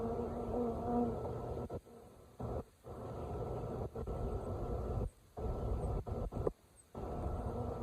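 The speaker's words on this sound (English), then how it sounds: "Still got a few bees in this box we'll get out." Bees hum in a close, continuous drone from a swarm trap box, with brief gaps where the buzzing cuts out, then resumes at the same steady pitch.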